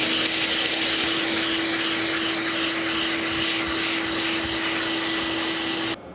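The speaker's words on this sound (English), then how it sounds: "Now I'm gonna knock down this body filler with some 40 grit, just to kind of cut through it" Body filler on a fiberglass or metal panel is cut down with coarse 40-grit sandpaper, producing a steady, loud abrasive rasp under a constant machine drone that stops abruptly at the end.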